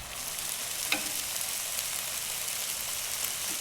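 Butter chicken masala with chopped green chilies and tomatoes fries and is stirred in a pan, giving a steady, close, even sizzle throughout with no talking.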